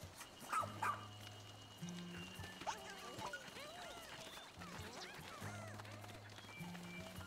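A video game dog in Pikmin 4 gives a few short barks and yips amid quiet game music and soft effects, moderately close, with no talking.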